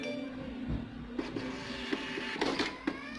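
An APOS A168 thermal receipt printer running a print job, giving a steady whirring feed broken by short, sharp mechanical ticks and clicks, close and fairly loud.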